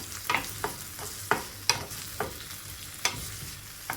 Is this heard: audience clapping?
no